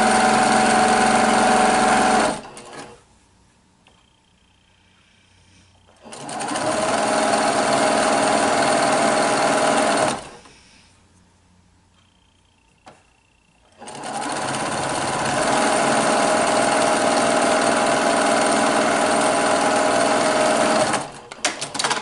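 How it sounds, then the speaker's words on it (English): A sewing machine stitching quilt pieces runs in three long, steady, loud whirring stretches separated by quiet pauses. "These are sewing up nicely"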